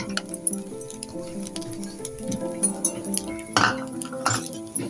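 A spoon stirs grated fresh coconut and rava roasting in a pan for traditional ladoos, giving repeated light clinks and scrapes against the metal at an uneven, steady rhythm, close and clear with no talk.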